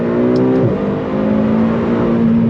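A 2021 McLaren GT supercar engine revs hard toward over 8,000 RPM, a loud continuous climbing whine with a brief dip and recovery before holding a high sustained note.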